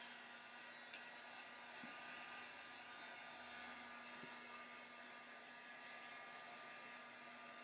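A heat tool blowing steadily while drying paper strips in a mixed media piece, a constant airy whoosh with faint small knocks, moderately quiet and uninterrupted.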